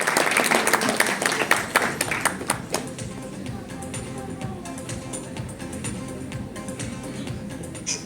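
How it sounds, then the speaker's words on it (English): A crowd at the launch of South Asia's first women's handball league in India applauds, strong sustained clapping that gradually settles into lighter scattered claps. "Can we please also give him a big round of applause"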